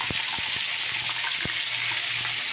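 Spices tempering in hot oil in a kadai hiss steadily as a loud, close sizzle, broken by scattered sharp pops and crackles, with no talk over it.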